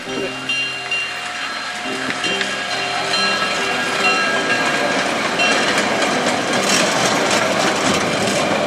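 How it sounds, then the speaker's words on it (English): A small amusement park ride train at Tweetsie Railroad rumbles steadily along, its engine droning with faint rhythmic rattling as it gradually grows louder, with voices mixed in. "a small train ride that runs around the area"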